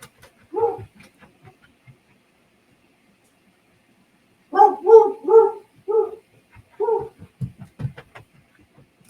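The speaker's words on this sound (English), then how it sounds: "I'm being notified by a dog." A dog barks indoors at close range in a quiet room: one bark, then after a pause a quick run of several loud barks and a few softer yips.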